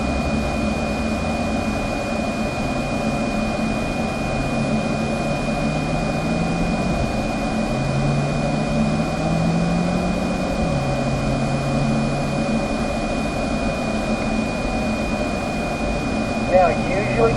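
A Chevrolet C8 Corvette lapping Spring Mountain East Track at an easy first-lap pace, its engine a steady, continuous drone with slowly shifting pitch and tire and wind roar heard from inside the cabin.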